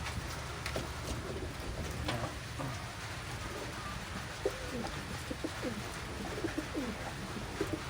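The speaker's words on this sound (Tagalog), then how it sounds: "Ayan ang ibon natin." A rain-soaked racing pigeon gives soft, low cooing calls during a long, hard race. The coos are faint and close, heard over a steady patter of rain.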